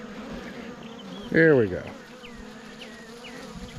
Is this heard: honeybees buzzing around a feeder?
yes